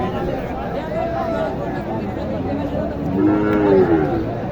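Cattle at a livestock market in Naogaon where Sahiwal and crossbred heifers are sold, with a loud, close moo rising over a steady crowd murmur, and people talking throughout.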